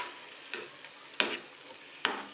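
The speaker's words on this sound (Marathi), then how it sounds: "सतत ह्याला हलवत राहायचं आहे ढवळत राहायचं आहे म्हणजे ते खाली चिकटणार नाही" Almond sheera (badam sheera) mixture stirred in a pan over a low flame: three distinct scraping strokes of the spoon at a slow, even pace, over a soft, steady sizzle.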